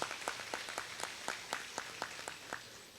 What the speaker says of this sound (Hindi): आप सब में जोर से ताली बजा करके स्वागत करें